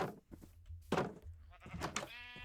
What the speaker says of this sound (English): And we have all sorts of sheep in here.